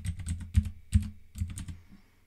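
Keys clatter on a computer keyboard as a command is typed at a PC, a quick close burst of distinct clicks with a couple of heavier strokes, tapering off near the end with no voices.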